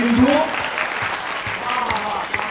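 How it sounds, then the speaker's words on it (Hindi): An audience at a Hindi poetry recital, the kavi sammelan, claps with raised hands in a steady, close burst of applause. Voices are mixed in with the clapping. "एक बार दोनों हाथ उठा के तालियों के साथ मुझे आदेशित करिए।"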